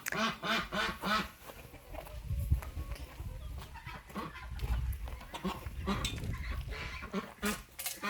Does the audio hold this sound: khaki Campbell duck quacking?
yes